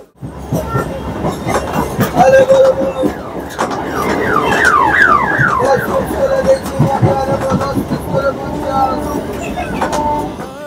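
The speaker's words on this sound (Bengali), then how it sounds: "বিরাটি ছেড়ে এখন আমাদের ট্রেন ঢুকে গেল হচ্ছে বিশ্বরপাড়া জাংশন।" A local train rumbles and clatters loudly on the tracks as it pulls into a junction station, with a horn-like tone sliding and wavering, busy mechanical noise throughout.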